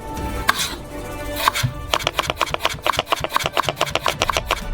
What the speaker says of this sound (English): Cut them into slices, but already thicker than the last time. And then we make the strips thicker.